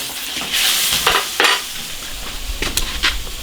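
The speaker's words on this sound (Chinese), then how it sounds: "捞出来炒" Slices of fatty pork are stir-fried with chili peppers in an iron wok. Loud sizzling is broken by several sharp scraping stir strokes in uneven bursts, close up, with no voices.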